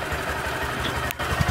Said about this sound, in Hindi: आप एग्जॉस्ट नोट सुन सकते हैं यहाँ पे